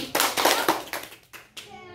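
Hands clap in time along with a children's counting song, a run of sharp claps with short gaps mixed with a voice and speech.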